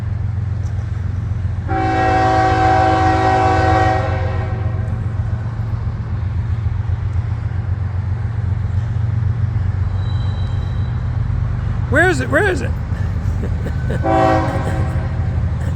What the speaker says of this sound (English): Oh, there it is. Big, long, beautiful train.